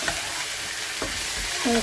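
Chicken pieces and carrots hit a pan of onions frying in a little oil and spice, giving a steady close sizzle with a soft stir or clatter near the middle and a brief scrape at the end.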